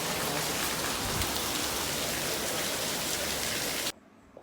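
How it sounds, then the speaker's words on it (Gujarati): Steady, dense rain hisses continuously, loud and close, then cuts off abruptly near the end, leaving near silence. "મસ્ત વરસાદ ચાલુ થઈ ગયો છે."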